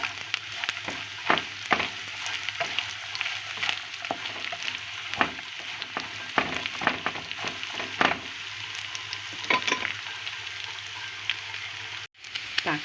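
Onions sizzle and crackle steadily in a hot pan, with scattered pops and occasional scraping stirs, no talking.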